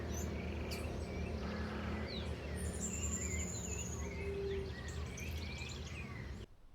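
Birds singing outside a house in Samaipata, Bolivia, with scattered chirps and whistles over a steady buzz of insects and crickets, a mellow outdoor chorus that stays fairly faint throughout.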